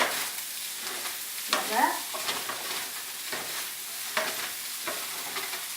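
Pineapple chunks stir-fried with rice in a pan, giving a steady frying sizzle under repeated scraping spatula strokes and a few louder stirring bursts, with a brief spoken remark.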